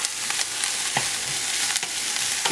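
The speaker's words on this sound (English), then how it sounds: "you want to make sure that you're moving everything around because the onion is so finely chopped that it can, you know, burn easily" Finely chopped red onion frying in a pan while being stirred, a dense close hiss of sizzling with several quick scraping strokes of a spatula, no talk.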